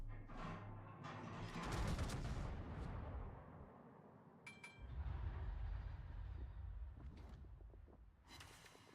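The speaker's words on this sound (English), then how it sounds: "just some ricochets" Naval gunfire in World of Warships, with shells ricocheting off ships: a loud rumbling barrage of booms and cracks, one sharp metallic ping in the middle and a burst at the end, with no talk.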